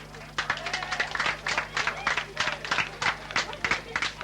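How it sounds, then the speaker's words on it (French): Audience at a stadium inauguration clapping in a steady, moderate round of applause, with crowd murmur and hubbub underneath. "Je vous demanderai quand même de les applaudir un tout petit peu."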